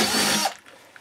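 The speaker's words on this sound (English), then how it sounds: "We'll just drill this out." A power drill bores out a 5/16 hole on a solar panel pole build, a short loud whir lasting about half a second before cutting off, followed by faint clicks.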